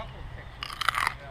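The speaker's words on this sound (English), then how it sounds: "Crunchy celery. That's really good. Fresh from the garden." A crisp bite into crunchy fresh garden celery, with a sharp snapping crunch followed by a brief burst of chewing close to the mic.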